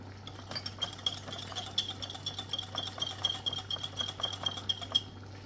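A spoon stirs yogurt into corn in a pan, producing rapid, rhythmic scraping and light metallic clinks in a steady close-up pattern, with a low hum underneath.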